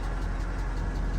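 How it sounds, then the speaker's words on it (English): A 2013 four-cylinder car engine with a knock runs steadily up close, a continuous low rumble with no distinct knocking beats standing out, no voices over it. "The motor got a knock on it."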